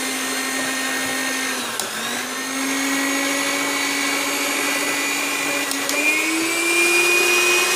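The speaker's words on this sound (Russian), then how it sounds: "Одновременно движется наша чаша, работает миксер." A Zelmer HM1200/481 mixer on its stand with a rotating bowl whirs steadily and loudly, with its motor pitch dipping briefly and then rising as the speed changes.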